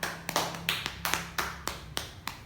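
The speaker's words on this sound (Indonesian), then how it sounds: "Beri tepuk tangan untuk kelompok 2" A classroom group gives a short round of sparse clapping, the claps irregular and fairly close, about a dozen over a couple of seconds.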